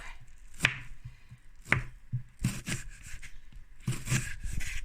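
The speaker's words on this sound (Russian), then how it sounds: "Мы должны ее покрошить." A knife chops a large onion into slices on a board, giving irregular crisp strikes and scraping cuts, fairly close, with no voices.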